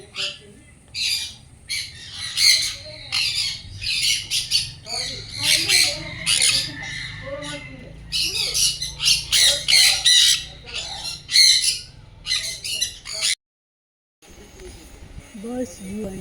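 Exotic birds in a bird park squawk loudly and repeatedly in harsh, close bursts, with several calls overlapping in irregular rhythm, while people talk faintly in the background; the sound briefly cuts out near the end.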